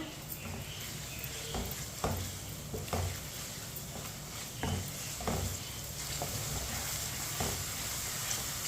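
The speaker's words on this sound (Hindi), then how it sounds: "टमाटर को 2 मिनट के लिए मैंने पका लिया है चम्मच चलाते हुए।" Tomatoes cooking in a pan over a medium flame for dal palak, stirred with a spoon: a steady frying sizzle broken by repeated scraping strokes of the spoon, close and moderately loud, with no talking.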